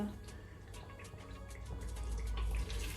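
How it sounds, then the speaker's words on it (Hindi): A glass of water is poured into a pot of degi mutton korma, giving a close, steady splashing and trickling run with a heavier gush toward the end, no talk over it. "अब मैं इसमें 1 गिलास पानी का डाल दूंगी।"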